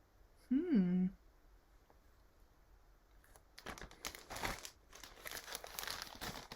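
Plasticky wrapping paper on a present containing a book crinkles and rustles in close, irregular bursts through the second half. Before that there is a brief tonal voice-like sound, and otherwise the room is quiet.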